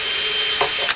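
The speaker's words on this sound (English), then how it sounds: "I use a 1/16 inch drill, which works very well" A power drill with a 1/16 inch bit bores holes in a can for a homemade stove, a steady high whine heard close and loud for a brief moment.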